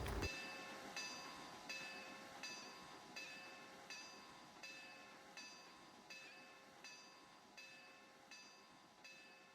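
Steam locomotive No. 475 rolls steadily past a farm, its wheels clacking in an even, repeating rhythm over a sustained mechanical hum.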